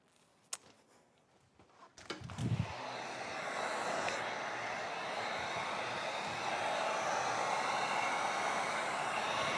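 After a few quiet clicks and handling noises, a heat gun switches on while window tint is applied to a Grand Cherokee, blowing a steady, close, breathy roar of hot air that holds for the rest of the clip.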